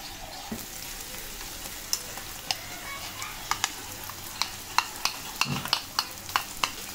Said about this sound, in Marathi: आता आपण जो मसाला तयार केला तो घालायचा आहे याच्यामध्ये